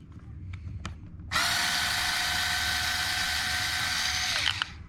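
A power driver whines steadily for about three seconds while backing screws out of the metal drive shafts on a Traxxas Maxx RC truck, starting abruptly after a few faint clicks and stopping cleanly.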